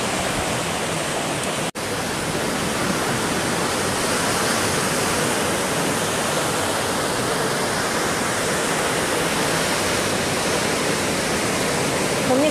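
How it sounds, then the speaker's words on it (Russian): Big Pacific Ocean waves break along a beach in a continuous, loud, hissing roar of surf that barely changes over the whole stretch, with no voices. "судя по волнам, видите, какие волны достаточно большие идут"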